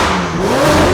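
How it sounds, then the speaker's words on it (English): A supercar with a straight-piped full exhaust system revs hard and close, a loud raw engine note climbing in pitch over one second, with no voices. "We already did a full exhaust system in it, so it is literally straight piped out the back, and it sounds absolutely insane."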